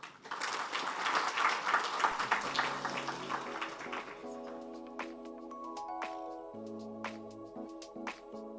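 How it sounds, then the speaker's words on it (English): Applause from an audience at a banking sustainable finance summit rattles for about four seconds, fairly loud and dense, then gives way to sustained music tones. "One more round of applause for Raymond, setting the stage for us."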